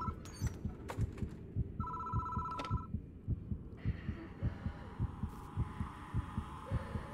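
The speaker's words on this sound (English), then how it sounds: "The telephone is doing it." A telephone rings in the horror video game Death Mark as a short electronic trill lasting about a second. It sits over a steady, throbbing heartbeat-like pulse that runs throughout.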